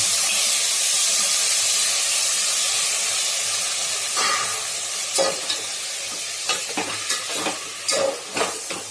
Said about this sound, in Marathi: इथं अर्धा किलो तांदूळ स्वच्छ धुवून 15 मिनिटे भिजत ठेवून पाणी निथळून घेतलेलं आहे मी आणि तो आता फोडणीमध्ये ओतत आहे.